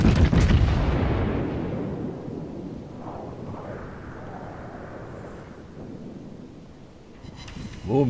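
A heavy naval gun salvo from World of Warships slams into a ship's citadel: a loud, close boom that rolls into a long rumbling decay, with another blast starting right at the end.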